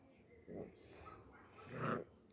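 A dog breathes and snorts close by, with two short, huffing bursts against a quiet background.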